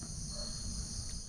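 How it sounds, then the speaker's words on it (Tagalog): Crickets at a riverside camp site in Dolores, Quezon chirp in a steady high-pitched continuous trill over low background rumble, with no talking. "Tapos huni ng ibon, kuliglig yung naririnig namin."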